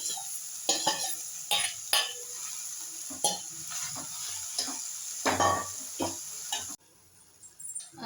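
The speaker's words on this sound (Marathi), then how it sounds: "मध्ये असं थोडं परतून घेऊया." Palak bhaji, a Marathi-style dry spinach dish, is stirred in a pan. Close scraping and clinking strokes come in an irregular rhythm over a continuous sizzle, with no voices.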